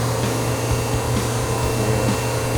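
The dust collection system on a CNC machine running at full power, a loud, even roar and hiss with a steady low hum, continuous and close with no talking.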